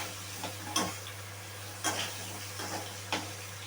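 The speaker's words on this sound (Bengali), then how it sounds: "হলুদটা দিয়ে আরও কিছুক্ষণ আমি নেড়ে নেব।" Turmeric being stirred into potatoes in a frying pan, producing a steady low sizzle broken by a few distinct scraping strokes of the spatula at irregular intervals, close and fairly quiet, with no voices.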